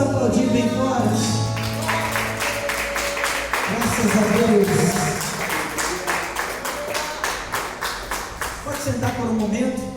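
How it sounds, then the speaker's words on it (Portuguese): A church congregation applauds loudly, with dense, sustained clapping filling most of ten seconds, while a voice speaks over it at the start and end. "Vamos aplaudir bem forte"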